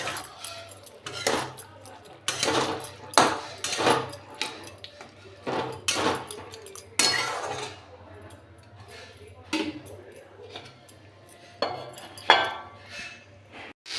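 A metal spoon clanks and scrapes inside a pot of drumstick and pumpkin curry as spices are stirred in, then a lid goes on. The close, irregular clinks and knocks are spaced across the stretch.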